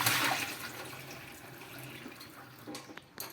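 Tap water runs while raw green mangoes are washed. A close, full rush of water tapers off over a few seconds, ending with a few small splashes and drips and no voices.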